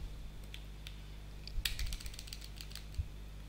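Keys tapped on a computer keyboard while building a chart in Excel, a few soft scattered clicks with a small cluster of quicker presses, faint and close with no talking.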